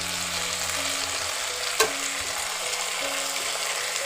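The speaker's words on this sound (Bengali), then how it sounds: "দেখুন এটাকে আমি ভালোভাবে কষাচ্ছি মাংসটাকে।" Mutton pieces fry and sizzle in a pan for Bengali aloo jhol, a steady close crackle with one sharp utensil knock as the meat is stirred, no talking.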